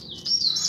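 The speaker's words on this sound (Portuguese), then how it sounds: "o que vocês acham dos coleiros aí, ó?" Double-collared seedeaters, a male and female pair, give a short bright chirping song phrase at close range, high thin tweets rising over faint background noise.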